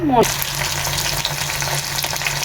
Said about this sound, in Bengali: পেঁয়াজ মরিচ এবং সামান্য লবণ দিয়ে ভালোভাবে ফ্রাই করে নেব।